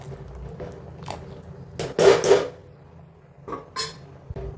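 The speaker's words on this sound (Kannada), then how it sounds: "ಈಗ ಇದಕ್ಕೆ ಸ್ವಲ್ಪ ಒಗ್ಗರಣೆ ಮಾಡ್ಕೊಂಡು ಈ ಒಗ್ಗರಣೆನ ಮಿಕ್ಸ್ ಮಾಡಿಬಿಡೋಣ" Tempering (oggarane) gets stirred into boiling avarekalu sambar in a pot, with a few sharp metallic clanks and scrapes of a utensil against the vessel over a low background.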